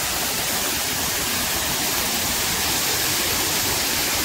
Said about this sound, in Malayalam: ഓ, എന്താ ആ വെള്ളത്തിൻ്റെ ഫോഴ്സോണ്.